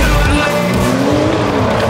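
Renault Sport R.S. 01 race car at the Jerez circuit, a loud, close engine howl with squealing tires and a rising pitch sweep, continuous and intense.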